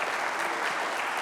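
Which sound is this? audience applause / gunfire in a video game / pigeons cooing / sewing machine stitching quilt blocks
audience applause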